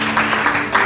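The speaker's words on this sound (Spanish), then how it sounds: "Denle ese aplauso fuerte al Señor y siéntese." A church congregation bursts into brief, loud applause for the Lord during a Spanish-language evangelical service, a dense wash of clapping with no pause.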